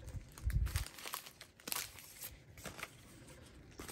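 Crinkly plastic of a diamond art sticker sheet rustles and crackles in scattered bursts as it is handled up close, fairly quiet with no talk.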